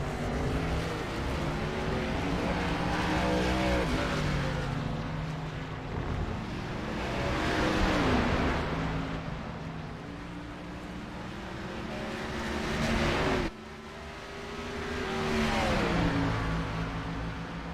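Race cars in a racing game at The Glen powering out of a corner, several engines droning and rising in pitch one after another, swelling and fading as they pass, loud and continuous.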